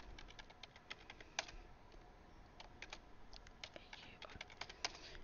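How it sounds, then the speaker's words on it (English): Fingers type on a computer keyboard, a quick run of light, uneven key clicks close by over faint background hiss. "I'm going to go down to 5 and type in carrot, followed by rock"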